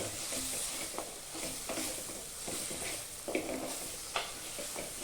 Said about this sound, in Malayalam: നന്നായിട്ടൊന്ന് ഇളക്കുക ഈ പൊടികളെല്ലാം